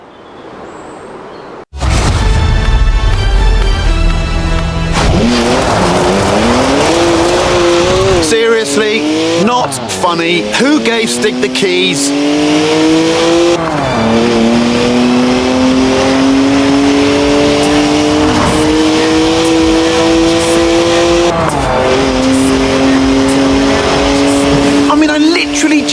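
A BMW 1M engine in Forza Horizon 4 starts abruptly and roars through repeated rising revs and gear shifts, loud and close, with a voice talking over the driving.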